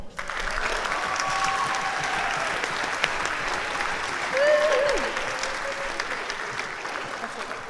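An audience at a spring instrumental ensemble concert for school students gives steady, sustained applause that swells briefly midway, with faint voices beneath.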